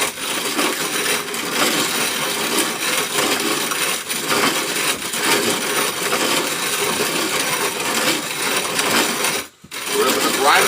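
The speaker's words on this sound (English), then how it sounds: "we're going to grind this down with some cornmeal" Dry corn being ground into cornmeal in a home mill, a steady gritty crunching and rasping grind that runs nearly the whole time, briefly stopping near the end before resuming, with a person talking faintly underneath.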